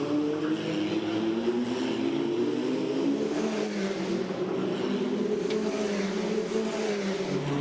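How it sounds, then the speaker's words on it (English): An FIA Formula Regional race car laps the Macau street circuit during World Cup qualifying, its engine droning loud and steady with gentle pitch shifts as it threads around the tight upper section, no voices over it. "Number 8 car of Charlie Wirtz threads his way carefully around the top part of the circuit"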